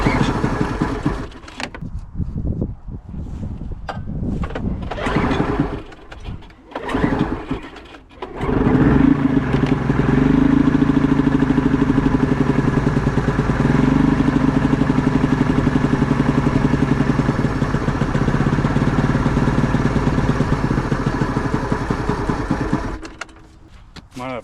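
A triple-cylinder Ski-Doo snowmobile engine, previously locked up, catches after some rough sputtering and then holds a loud, steady idle with a rhythmic throb before cutting out near the end.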